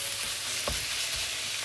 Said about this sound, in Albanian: Dhe vazhdojmë të trazojmë që dhe mishit të skuqet